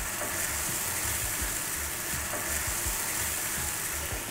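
Ground mustard paste mixture frying in hot oil, a dense, continuous sizzle and crackle that stays loud and even throughout.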